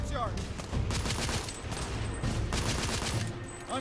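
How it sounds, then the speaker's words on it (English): Bursts of gunfire in The Order 1886 video game, rapid overlapping shots in a courtyard battle, loud and sustained in two waves, with shouting voices mixed in. "I'm taking suppressing fire!"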